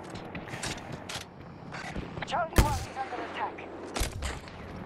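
Sniper fire in the shooter Battlefield 2042: scattered sharp shots across the battlefield, with one loud, close crack standing out midway and a few fainter reports around it.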